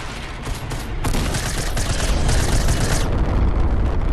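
Rocket launch event in the Fortnite video game, a loud continuous roaring blast with crackling rumble that swells after a brief build-up and holds steady.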